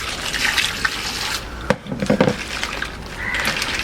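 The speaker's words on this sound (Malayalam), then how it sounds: "വെള്ളം ഒഴിച്ച് ക്ലീൻ ചെയ്തെടുക്കാം." Water poured over freshly cut crab pieces to rinse them, a steady splashing, running flow close by that breaks briefly midway, then resumes with trickling and splashes.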